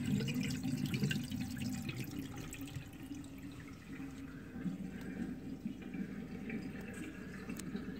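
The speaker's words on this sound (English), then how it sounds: "Now it should drain the whole tank." Water drains from an aquaponics tank through a U siphon with a continuous low gurgling flow and light trickling, fairly quiet and steady throughout.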